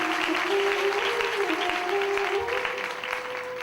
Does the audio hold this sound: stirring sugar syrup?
no